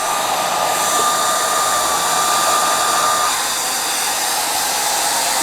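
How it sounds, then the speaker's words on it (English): A hair dryer blows steadily on homemade gesso to dry it, running continuously at close range with a constant loud whooshing hum and no voices. "hair dryer to blow it dry, and it worked fine."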